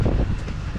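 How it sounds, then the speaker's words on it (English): Strong gusting wind outdoors while pressure washing around a wheelchair ramp, a heavy low buffeting roar against the microphone, close and steady for under a second, with no speech. "It's so windy it blew my damn hat off."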